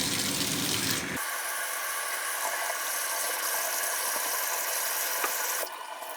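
Running water from a tap pours steadily into a tub while a cloth diaper is rinsed, a loud, continuous close rush that briefly changes tone near the end.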